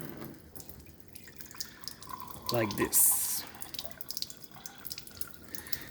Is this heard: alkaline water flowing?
yes